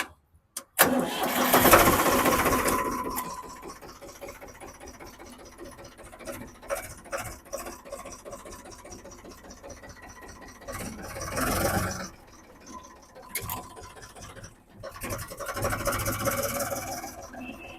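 A tractor's diesel engine cranks and starts, then runs with a rough, uneven rumble that rises and falls as it revs.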